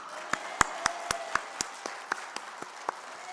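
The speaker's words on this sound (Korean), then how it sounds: "다시 한번 주님께 영광의 박수 드리겠습니다" Sparse, distinct claps ring out one by one in a Korean church service, a dozen sharp slaps at a loose steady rhythm, fairly quiet with faint room noise between them.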